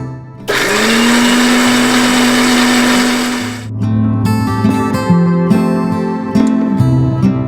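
A loud motorized grinder whirs as it grinds soaked dal into a smooth paste, a high steady whine for about three seconds that drops off, then restarts in rougher, pulsing bursts with shifting pitch.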